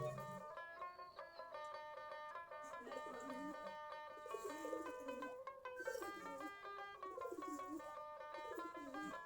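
A flock of around forty domestic pigeons feeding on rice at midday, with dense overlapping cooing and soft throaty calls close by, steady and continuous with no talk.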